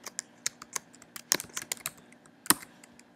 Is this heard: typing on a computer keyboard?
yes